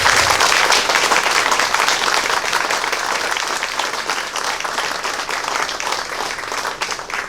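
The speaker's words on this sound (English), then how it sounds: "huge round of applause," Loud, sustained applause from a crowd at a public library ribbon-cutting ceremony, dense clapping that holds steady and eases off slightly toward the end.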